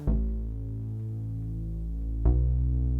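Two sustained low notes on a Nord keyboard, the second struck near the end, ringing with a warm, organ-like hum and no voices.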